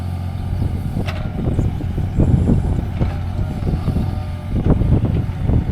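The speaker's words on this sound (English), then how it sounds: "Sorry if that wind is coming across kind of loud" Loud, continuous wind buffets and rumbles across the microphone, with gusts swelling and fading and low roaring throughout.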